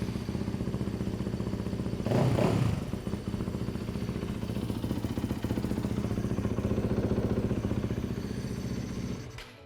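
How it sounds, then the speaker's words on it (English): A Yamaha YZ/WR dirt bike engine, just fitted with a new fuel pump, bursts into life with a loud crank and then settles into a fast, steady, close idle with rattling mechanical clatter, no voices. "Now let's start the bike to make sure that it's working correctly."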